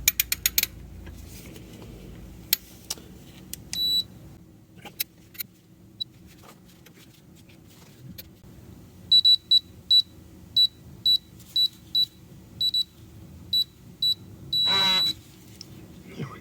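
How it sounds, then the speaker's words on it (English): A digital torque wrench gives a series of short, sharp electronic beeps while tightening the oil drain plug of a Chrysler Pacifica with a Pentastar engine, its beeps coming in quick clusters amid quiet ratcheting and handling noises in a garage. "Now we're just going to go ahead with my digital torque wrench here"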